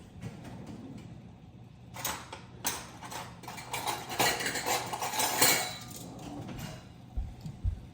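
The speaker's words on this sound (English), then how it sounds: "Let me get my measuring spoons." Metal measuring spoons clink and rattle against each other and nearby dishes in a home kitchen, a busy cluster of small clatters building in the middle, then fading to scattered knocks.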